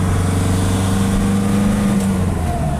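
A Nissan NP300 engine straining under full throttle while losing power from a turbo boost pressure sensor fault, a steady loud drone with a low hum and no rise in pitch, heard from inside the cab.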